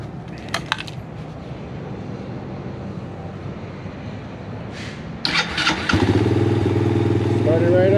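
Grom clone motorcycle with a Nibbi carburetor cranking and starting after a few seconds of background noise, then settling into a steady close idle, with a voice speaking faintly before it fires.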